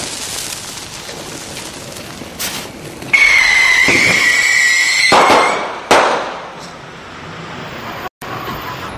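Bottle rockets fired from rocket skates, a loud outdoor burst of crackling pops and sharp whistling hisses rising and fading over several seconds, with a few sudden bangs.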